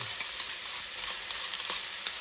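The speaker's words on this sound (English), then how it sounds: "Keep stirring the first bit." Ingredients for nasi goreng frying in a pan while being stirred, a steady close sizzle with scattered scraping taps from the utensil throughout.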